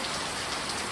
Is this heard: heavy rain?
yes